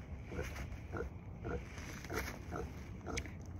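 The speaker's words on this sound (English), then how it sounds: "pot belly pig" A pot-bellied pig grunts close by in a rhythmic series of about eight short, soft snorts, spaced roughly half a second apart.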